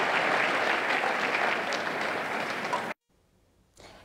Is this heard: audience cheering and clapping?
yes